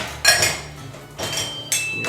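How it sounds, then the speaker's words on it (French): Metal utensils clink and clatter in three quick bursts as they are dropped into a dishwasher in a home kitchen, close and fairly loud with short pauses between. "je mets dans la vaisselle les ustensiles, comme ça je peux lancer le lave-vaisselle"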